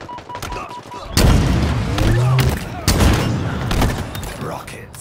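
Rocket launcher shots and explosions in Halo Infinite multiplayer, several loud booming blasts with a sharp onset after a quieter start, followed by more impacts, with voices underneath.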